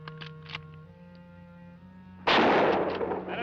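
A single loud gunshot crashes in suddenly and rings out, following a quiet stretch with a faint tone and scattered small noises, in a 1956 Western film.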